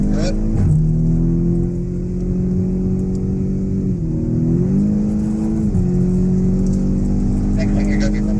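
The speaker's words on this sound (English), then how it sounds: "let's step on the gas" A ChumpCar endurance race car at Circuit of the Americas accelerates onto the long straightaway. Its engine drones loud and close with steady harmonics, and the pitch dips and climbs again as it shifts gears.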